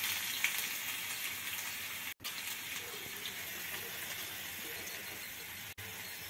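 Garlic dropped into hot oil in a tempering ladle for a tadka, giving a continuous hissing sizzle with two short breaks in the sound.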